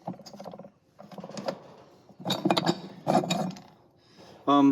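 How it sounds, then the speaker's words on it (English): An antique ratchet die stock handle clicks through several short bursts of metallic ratcheting, close and crisp, with pauses between strokes and a brief tonal clink at the end. "It is ratcheting."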